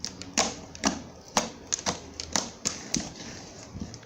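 Sticky glue slime being pressed and pulled, giving a string of sharp, crisp clicks and pops at an irregular rhythm, close up and fairly quiet with no talk.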